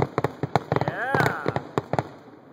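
Neighborhood fireworks in Cameron Park burst in a rapid irregular string of sharp cracks and booms, with a brief whistling rise in the middle and people's voices mixed in.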